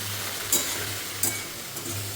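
Shrimp and jackfruit fry slowly in oil, giving a low, steady sizzle with a couple of brief brighter crackles. It is close and moderately quiet, with no one talking.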